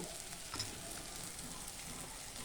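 Small crabs frying in a pan with turmeric and salt, a soft continuous sizzle and crackle at low level, steady throughout, with an occasional faint stir and no voices.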